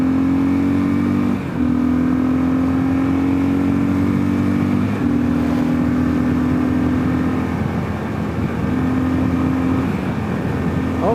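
A 2022 Kawasaki KLR650 adventure motorcycle fitted with a 16-tooth front sprocket drones loudly at highway speed, its engine note climbing in steady pulls with brief dips between gear changes, wind rushing underneath.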